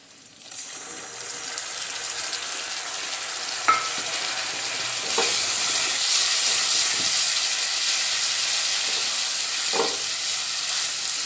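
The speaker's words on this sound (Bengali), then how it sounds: "এবারে আমি এতে পেঁয়াজ বাটাটা অ্যাড করব" Onion paste added to a pan with ginger, garlic and coconut on a gas flame, a steady sizzle that grows louder after a few seconds, broken by occasional scraping stirs.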